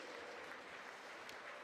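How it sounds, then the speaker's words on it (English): Applause rises from spectators at the national track cycling championships after a new national record, a continuous, fairly distant and quiet spread of clapping with no break. "Deserved applause."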